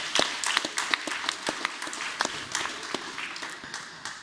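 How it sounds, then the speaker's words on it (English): A modest audience at a panel discussion on AI in society claps for a professor, scattered individual claps rising and thinning out over a few seconds in a room. "Please give a round of applause."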